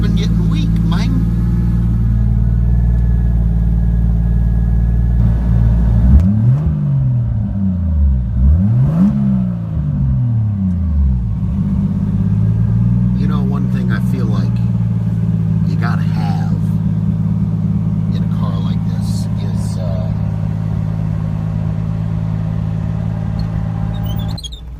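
An RB30 engine in a Datsun 280Z idles with a deep, steady rumble, briefly blipped and revved in rising-and-falling swells before settling back, while someone talks over it.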